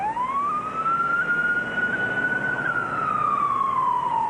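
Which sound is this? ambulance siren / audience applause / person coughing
ambulance siren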